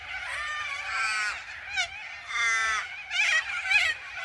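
White parrots, likely cockatoos or corellas, screech harshly in a noisy flock at Manning Park, Western Australia, with a burst of loud, overlapping raspy calls as two birds fight nearby.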